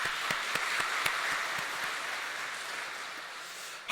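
Church congregation bursting into applause during a Sunday service, a dense, steady wash of many hands clapping that carries evenly through to the end.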